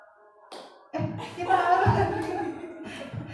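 Hands clap in a classroom greeting routine, a few sharp claps rising out of a quiet room amid chatter and a soft chuckle, with people talking around them.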